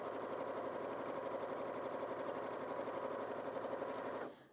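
A Janome DKS30 sewing machine runs at top speed, a steady rapid mechanical chatter held evenly for several seconds before abruptly stopping.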